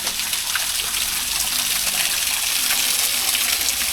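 Water pours steadily at Curug Cikurutug, a small waterfall, giving a constant close rushing, splashing wash with no pauses and no voices.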